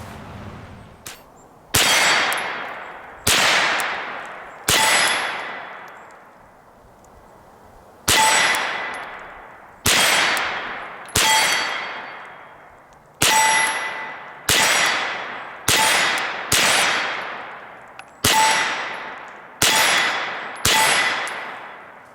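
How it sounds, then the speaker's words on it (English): Rounds from a Ruger PC Carbine striking steel challenge targets downrange, about fifteen sharp ringing clangs in uneven bursts, each with a decaying metallic ring, with no talk. "downrange we've got our steel from challenge targets, and we're going to shoot some of that right now."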